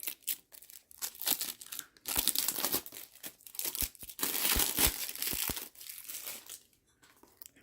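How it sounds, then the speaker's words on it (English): Sticky cellophane wrapper being peeled and crinkled off a new tarot deck box, a close, continuous crackling and rustling with sharper snaps in the middle, fading toward the end. "This is like sticky cellophane paper."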